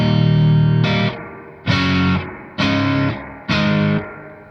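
An electric guitar runs through a Walrus Audio R1 Mako stereo reverb pedal on a dark spring setting: four loud, gritty strummed chords, each cut short and trailing a brief reverb tail.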